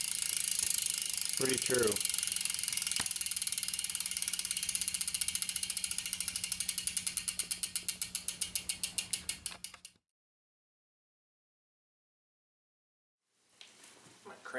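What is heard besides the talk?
bicycle wheel spinning, freewheel ratchet ticking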